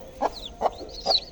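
A hen clucks three times in short, evenly spaced calls, close and clear over a quiet background.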